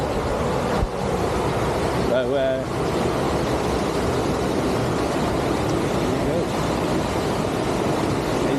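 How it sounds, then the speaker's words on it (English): Steady rushing water under a road bypass near Newtown, Wales, loud and continuous, with a brief voice speaking over it near the start. "that water's coming down pretty fast now"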